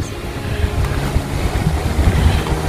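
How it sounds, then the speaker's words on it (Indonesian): Strong wind buffets the microphone in a constant low roar with gusty rumbling, outdoors in a garden with a pear tree in Australia, loud, no speech. "Angin kenceng tapinya."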